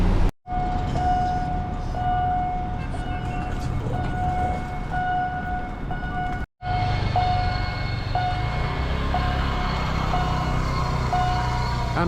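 A steady rumbling roar of a passing train fills the clip, with a high whining tone and a brief dropout partway through.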